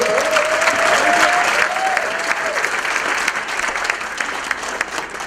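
An audience applauds loudly, steady clapping that slowly tapers off, with a voice speaking briefly over it.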